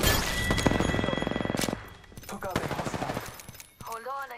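Rapid automatic gunfire in Apex Legends: a fast, evenly spaced burst of shots, a short pause, then another quicker volley and a few scattered pops, fairly close and loud.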